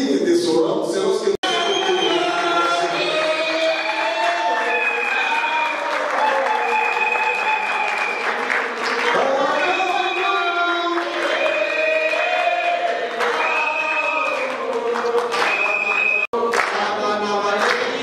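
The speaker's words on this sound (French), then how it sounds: "acclamations dignes de son rang." A crowd applauds and cheers at the closing of a political party congress, loud and continuous, while music with a strong melodic line plays over the clapping and two brief sharp cuts break it.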